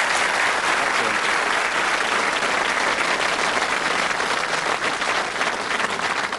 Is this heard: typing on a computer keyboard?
no